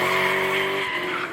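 A V8-powered BMW E28 drifting on a street, with a loud, sustained tire squeal over a steady engine drone, close and continuous for the whole short stretch.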